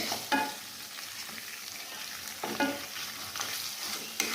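A spoon stirs pieces of fish through sizzling balado chili sauce in a frying pan, giving soft scraping strokes over a steady frying hiss, with a few sharper clinks near the start and middle.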